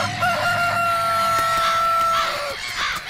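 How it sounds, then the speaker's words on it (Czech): A rooster guarding a garden crows once in a long, loud, drawn-out call that holds steady and then trails off, with faint clucking and background noise around it. "A kohout jenom hlídal zahradu."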